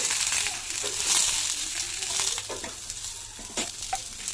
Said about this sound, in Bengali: এখন আমি দিয়ে দিচ্ছি চেরা কাঁচা লঙ্কা আর বানানো পেঁয়াজ। বেগুনগুলো একটু উল্টিয়ে নিচ্ছি এভাবে।